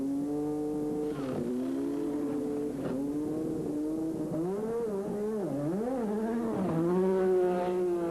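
1986 Formula 1 race cars pulling out of the pit lane onto the track, a loud high-pitched engine whine rising and falling through gear changes and revs, a car passing close, with no talking.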